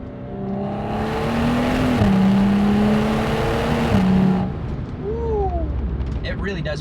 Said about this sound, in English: get some exhaust noises because I realized I didn't rev the car out at all